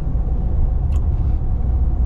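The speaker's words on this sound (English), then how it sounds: "I love the exhaust. This is perfect." A deep, steady exhaust rumble from a 2021 Ram 1500 TRX pickup's supercharged 6.2L V8 idling nearby, dense and low-pitched throughout with no talking.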